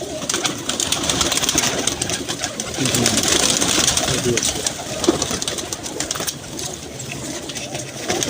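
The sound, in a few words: rabbit eye pigeons cooing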